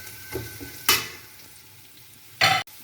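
Cinnamon, bay leaf, cumin and dried lemon being stirred in a frying pot, with soft oily sizzling and two sharp clattering scrapes of a spoon against the pot, close up.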